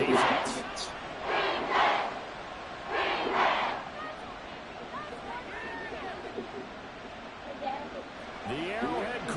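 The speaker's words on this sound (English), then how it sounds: "The Arrowhead crowd in full roar" A large football crowd roars at Arrowhead Stadium, a broad sustained wash of cheering that swells and holds steady throughout, with a play-by-play voice talking over it.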